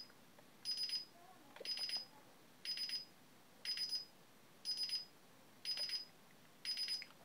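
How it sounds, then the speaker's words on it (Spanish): A DSC alarm panel beeps while arming, seven evenly spaced short bright tones about a second apart, clear and alone over quiet room noise. "Ya está a conectar la alarma"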